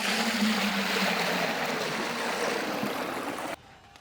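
Water poured steadily into a cooking pot while making potato dum biryani, a close, continuous rushing splash lasting a few seconds before stopping abruptly.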